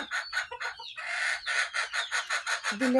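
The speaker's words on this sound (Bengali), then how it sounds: "দেখে নিন 8 কেজি ওজনের ব্রয়লার" Large broiler hens, one said to weigh about 8 kg, give a rapid run of loud, close, repeated clucks and squawks in quick rhythm, about a dozen bursts in a row.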